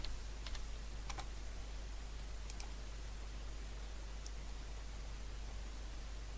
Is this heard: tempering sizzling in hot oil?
no